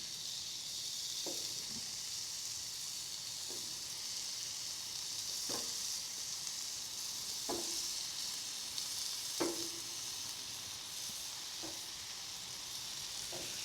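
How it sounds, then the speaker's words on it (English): A steady, close sizzle of onion frying in bacon grease in a pan, with occasional light taps of a utensil stirring. No talking. "listen to the sizzle"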